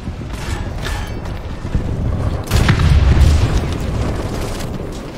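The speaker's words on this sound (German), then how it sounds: "Jetzt kommt ja gleich der Beschuss aus der Straße." Shelling and explosions in the tank game War Thunder, with loud booms and rumbling blasts over continuous battle noise, the heaviest impact landing near the middle.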